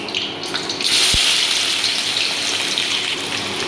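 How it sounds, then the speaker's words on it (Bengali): Onions dropped into hot oil with dried red chillies, bay leaf and small cardamom for mushroom masala; a sudden rush of sizzling swells up after a brief thump and continues loudly, hissing steadily. "এবার দিয়ে দেবো পেঁয়াজ, দিয়ে দেবো এর মধ্যে।"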